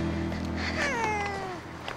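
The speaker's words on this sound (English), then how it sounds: "Marie has arrived with her grumpy Sphynx cat for Banu's appointment with cardiologist Ila" Grumpy Sphynx cat at a veterinary college lets out one drawn-out, loud, close meow that slides downward, over a steady low background hum.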